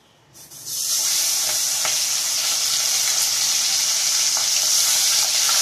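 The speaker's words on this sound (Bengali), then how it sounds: "মাছগুলো একে একে আগে ভেজে নেব। এই তো তেল বসিয়েছি, দেখুন তেল গরম হয়ে গেছে।" Parshe fish sizzling as the pieces go one by one into hot oil in a home kitchen pan for a mustard curry, a steady loud frying hiss rising sharply after a quiet start and continuing throughout with occasional pops.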